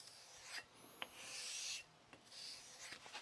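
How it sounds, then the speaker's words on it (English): A hard stainless Victorinox chef knife is stropped on the smooth side of a hanging strop, giving a few soft, quiet rasping strokes separated by short pauses. "use this hanging strop over here real quick just to make sure I got the burr off"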